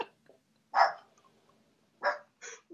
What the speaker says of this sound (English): We are so keeping his bark in there.